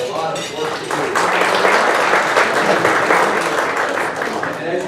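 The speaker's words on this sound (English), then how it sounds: "Please give a round of applause to all these folks." Audience at a Christian chamber of commerce gathering gives a sustained round of applause, building up after a moment and holding steady, with faint talk underneath.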